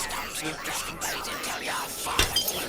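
A mirror in the Salad Fingers cartoon smashes into pieces, with a sharp glassy shatter and tinkling shards late in the clip that follow a stretch of softer clinks and ambient noise.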